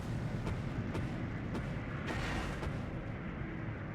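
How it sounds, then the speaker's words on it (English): Artillery shells land in a Steel Division 2 battle, a series of dull booming impacts over a dense, roaring wash of combat noise, with several sharper bursts punctuating the first few seconds. "Shots coming in."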